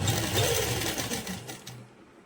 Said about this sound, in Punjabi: ਲੈਸ ਦੇ ਮਸ਼ੀਨ ਦੇ ਨਾਲ ਪਹਿਲਾਂ ਇਸ ਤਰ੍ਹਾਂ ਰੱਖ ਕੇ ਸੀਨ ਲਾ ਲਾਂਗੇ